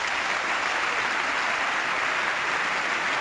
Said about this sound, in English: Now, listen to the applause.